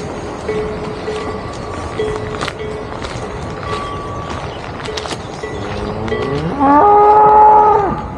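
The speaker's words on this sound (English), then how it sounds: "There are no pigs, there are cows." Cows at a farm outside Madrid moo several times, long drawn-out calls from nearby, the last one loudest, over a steady outdoor background.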